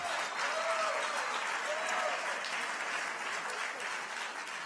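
An audience at the AJC Global Forum 2025 applauds steadily, with dense, sustained clapping from a large crowd that stays loud throughout and tapers only slightly at the end.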